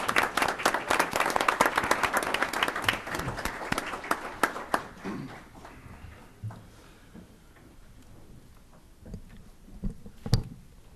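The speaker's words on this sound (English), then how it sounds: "About a round of applause for Troop" A crowd at a village board meeting claps loudly at first, the applause thinning out after a few seconds into scattered claps and faint room noise.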